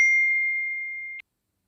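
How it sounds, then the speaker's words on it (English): A single bright notification-bell ding rings out clearly and alone, its pure tone sustaining and slowly fading for about a second before a soft click cuts it off. "Don't forget to turn on notification bell"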